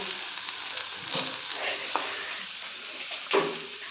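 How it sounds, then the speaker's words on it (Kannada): Boiled egg tawa-frying in oil on a pan, giving a soft steady sizzle with a few sharper crackles and pops near the end, moderately faint and close by. "ಅದು ಈ ಥರ ತವಾ ಫ್ರೈ ಆಗ್ತಾಯಿದೆ"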